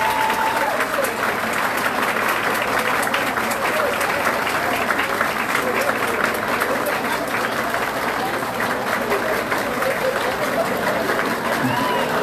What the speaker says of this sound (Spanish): Vamos a ver ahora, un aplauso para los amigos de Honduras.